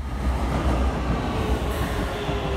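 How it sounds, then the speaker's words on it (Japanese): A Keikyu rapid express train on its way home, its steady low rumble and rolling wheel noise loud and continuous throughout, with a thin squeal rising near the end. "帰りも、快特、電車で帰宅します。"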